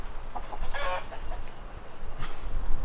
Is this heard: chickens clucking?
yes